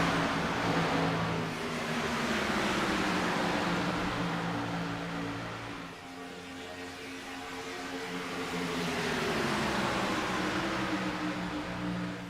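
Several race cars circling a track in a pre-season race, a steady blended engine drone swelling, fading briefly and swelling again as the pack passes, heard from a distance with no talk.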